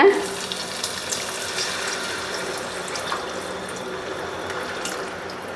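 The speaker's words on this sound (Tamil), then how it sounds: "அடுத்தது வந்துங்க நம்ம கரைச்சி வச்ச" Tamarind water is poured into a pan while making coconut milk fish gravy, a continuous splashing trickle heard up close that starts with a brief louder splash and then runs steadily.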